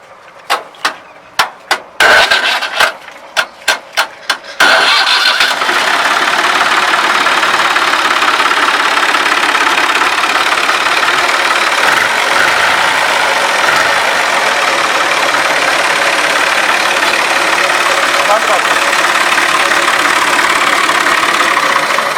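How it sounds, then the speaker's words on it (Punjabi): An Alghazi 2020 65 hp tractor engine cranks with a few sharp bursts, catches, then settles into a steady, loud, continuous idle that runs unchanged nearby with no talk over it. "ਭਾਈ ਇਹਨੂੰ ਸਟਾਰਟ ਕਰਨ ਲੱਗੇ ਨੇ ਤੇ ਇਹਦਾ ਸਾਊਂਡ ਸੁਣ ਲਵੇ ਜਨਾਬ ਨਵੇਂ ਅਲਗਾਜ਼ੀ 2020 ਮਾਡਲ"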